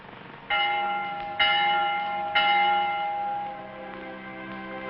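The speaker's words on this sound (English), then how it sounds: "The Vespers bell." Vespers church bell rings three clear, loud strokes in slow succession, each tone lingering and fading before the next, followed by a softer decaying hum.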